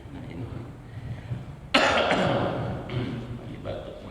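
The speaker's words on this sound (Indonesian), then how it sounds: "Lagi batuk, maaf ya" A single sharp cough bursts out close to the microphone, followed by a few rougher throat-clearing coughs, after a stretch of quiet room noise.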